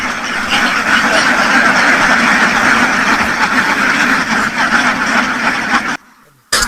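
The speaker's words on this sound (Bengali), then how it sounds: "এখানে প্রচুর পরিমাণে হাঁস দেখা যাচ্ছে" A large flock of Khaki Campbell ducks on a farm quack loudly and continuously in a dense chorus, then the sound cuts to near silence briefly before resuming.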